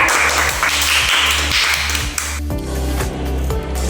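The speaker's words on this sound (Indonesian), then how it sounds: "silakan beri tepuk tangan untuk kita." Students clap in a classroom after a physics lesson presentation, a brief round of close hand claps that thins after about two seconds over a steady low hum.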